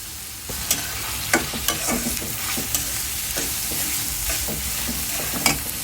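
Onion and garlic fry in a hot pan for a brain curry. A steady, close sizzle runs throughout, with repeated stirring scrapes and taps at an uneven rhythm.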